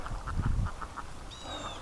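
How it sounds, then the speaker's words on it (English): Domestic ducks give a run of soft, evenly spaced quacks at a distance, faint over outdoor background noise, followed by a brief higher honk. "And the ducks are not interested in going to the lake."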